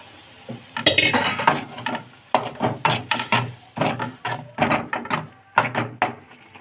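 A spoon stirs ground onion paste in a pan for a soyabean ghee roast masala, giving repeated rhythmic scraping clinks in short bursts, close and fairly loud, with no talking.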